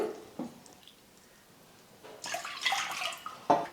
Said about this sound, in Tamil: அந்த பாத்திரத்தில் 2 கப் அளவுக்கு தண்ணி சேர்த்துக்கிறேன்.